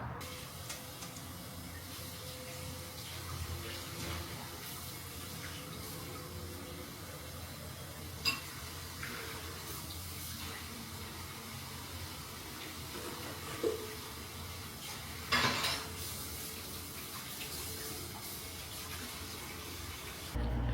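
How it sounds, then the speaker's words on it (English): Tap water runs steadily into a kitchen sink during dishwashing, a faint continuous splash with a few soft clatters of dishes and no speech. "so that I can do the dishes and go to sleep"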